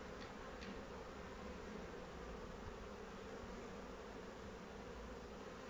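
Calm honeybees at a hive give off a steady, even buzzing hum, moderately faint and unbroken, with a couple of light ticks near the start.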